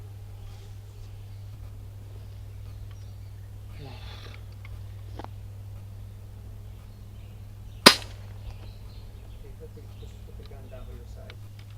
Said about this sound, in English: Now aim and fire.